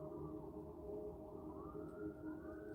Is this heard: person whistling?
no